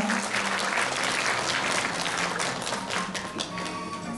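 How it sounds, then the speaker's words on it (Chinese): Warm applause at a Buddhist award ceremony in Tainan as an award presenter is invited to the stage: dense, steady clapping from a crowd, close and fairly loud, holding evenly for a few seconds with no talk. "让我们热烈掌声，邀请我们许正雄大德上台为我们颁奖"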